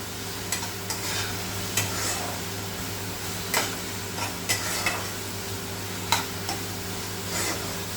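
Chicken curry masala stirred and fried in a pan with a little water, a steady sizzle broken by irregular scraping knocks of a spoon against the pan, close and alone without talk.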